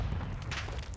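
A grenade blows up during a multiplayer shooter match, a deep, rumbling boom close by that fills the short moment with low-end roar and debris hiss.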